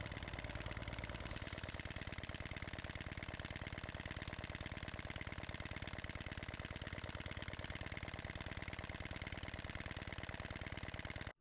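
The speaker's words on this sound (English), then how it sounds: "This clip shows the engine running just after timing it." Restored Reeves Unicorn steam engine running in on reduced air pressure just after timing, giving a steady, loud, rapid mechanical chuffing and clatter that continues unbroken throughout with no voices.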